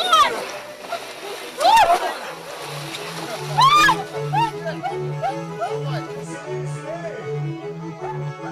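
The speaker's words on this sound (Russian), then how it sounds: "Людей, когда выдергиваешь из воды, брызги летят во все стороны." Icy Epiphany plunge water splashes as people are pulled out, with loud irregular bursts of splatter and sloshing near the microphone under overlapping talk and a steady low engine-like hum.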